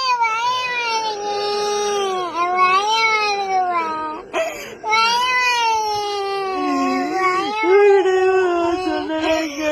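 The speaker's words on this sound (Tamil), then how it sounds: "அதுவும் இல்லாம அந்த குழந்தை அழுவுது" A child cries in long, continuous wails with rising and falling pitch, loud and close, breaking off briefly midway before resuming, with no speech over it.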